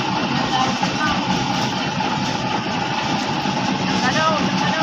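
A boat engine runs steadily throughout at a constant close, loud drone while people talk over it, during a trip to drop a tabaw fish aggregating device off Tiwi, Albay, after the engine's cross joint had broken earlier.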